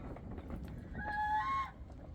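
A single goose lets out a drawn-out, nasal honk over a low background hum, fairly close and clear.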